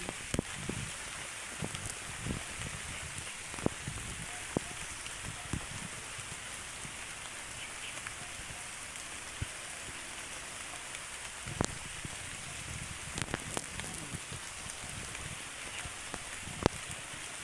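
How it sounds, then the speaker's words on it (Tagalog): Steady rain pours down continuously, with scattered louder drops tapping nearby surfaces throughout; no voices. "Naliligo ako sa ulan."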